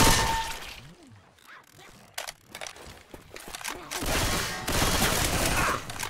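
Guns fire in the zombie shooter Left 4 Dead 2, bursts of loud cracking shots and clattering impacts clustered at the start and the end, with voices talking in between.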